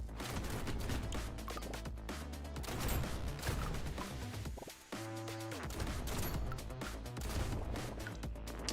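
A rapid, dense barrage of shotgun blasts fires continuously in a bullet heaven video game, loud and close, broken by a brief chiming pickup tone midway, with no talking.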